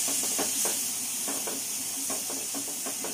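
Peas and spices for a samosa filling fry over a low flame in a pan, giving a steady close sizzle with soft, irregular stirring knocks and scrapes throughout.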